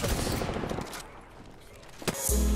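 Rapid automatic gunfire from an Apex Legends match, a dense burst of shots at first that thins out, then one sharp crack and a heavy low thump near the end.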